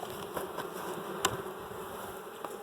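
Honey bees at an opened backyard hive hum in a steady, soft drone during an inspection, with faint brief clicks and no voices.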